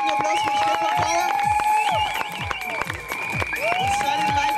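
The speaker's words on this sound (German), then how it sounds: "einen dicken Applaus" A crowd applauds a competitor at a bar show competition, with scattered clapping, mixed with cheering voices and some music, fairly loud and close.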